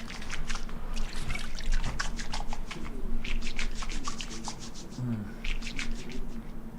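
Water trickles and pours in uneven splashing bursts while washing a face and weapons in the Project Zomboid survival game, a steady close liquid sound with brief gaps and no talk.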